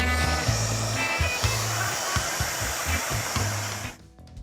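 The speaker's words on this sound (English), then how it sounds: "We're going to hairdryer you as well." Hair dryers blowing in a steady, loud, breathy whoosh with a low motor hum, running continuously before cutting off abruptly near the end.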